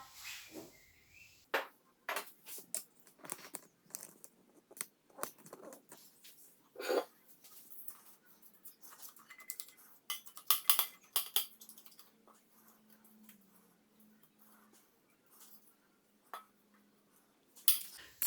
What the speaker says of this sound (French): Et on va le mettre dans un récipient.